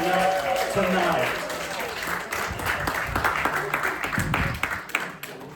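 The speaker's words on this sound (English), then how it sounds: "Let's give her a round of applause" An audience at a 90th birthday celebration breaks into applause, with dense clapping spread through the room while people talk over it and the clapping gradually thins out.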